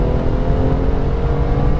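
A 2016 BMW M2 turbocharged engine revs steadily, loud and close, with a deep burbly, meaty tone and no talking.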